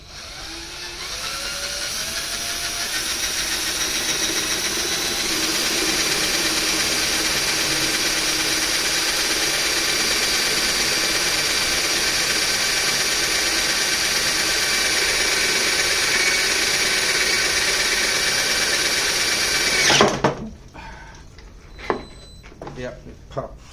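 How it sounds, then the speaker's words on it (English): A hand-held power drill bores into the wooden body of a mandocello, a loud, steady high whine that holds for about twenty seconds before stopping, followed by a few clunks and knocks. "So I don't like doing this with a hand drill."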